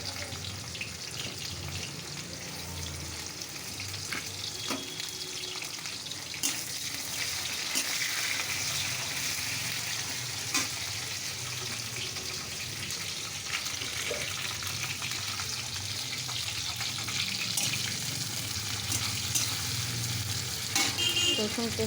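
Chopped onion and a torn bay leaf frying in hot oil in a pan, giving a continuous close sizzle with occasional stirring clicks and scrapes, and a faint distant horn once.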